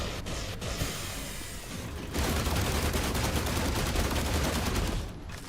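Sustained automatic gunfire in The Last Caretaker, a dense rapid burst that grows louder partway through and then stops abruptly, with no voices over it.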